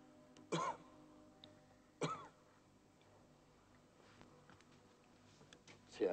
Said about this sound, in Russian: Так, хорошо, еще покашляйте.